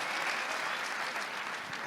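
Dense, steady applause from a crowd greeting a hit maker, filling the space continuously and evenly from start to finish with no voices above it.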